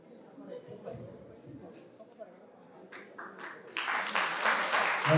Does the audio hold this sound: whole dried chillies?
no